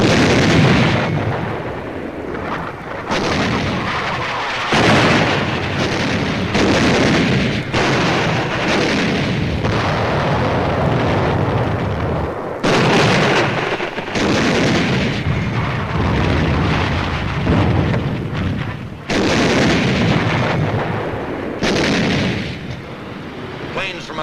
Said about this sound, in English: The Navy begins to soften up the island so we can land.